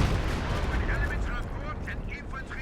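Mortar barrage and gunfire rumble through a Company of Heroes 2 battle, with a 112mm mortar team and PPSh submachine guns in the fight. A dense, steady roar of distant blasts and shots runs throughout, with scattered higher chirping effects on top.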